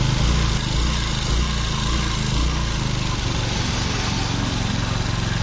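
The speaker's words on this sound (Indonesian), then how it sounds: "Cuman bagian mesinnya juga suaranya berisik" A noisy Honda Vario motorcycle engine runs steadily with a rough, continuous mechanical drone, close and loud throughout with no talk.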